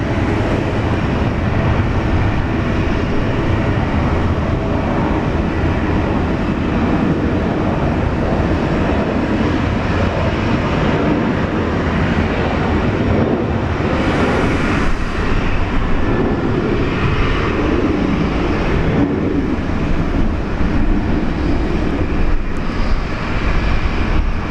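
An aircraft departs Brisbane International Airport at sunrise, a broad sustained jet roar that swells and holds for many seconds, loud and steady with no talking over it.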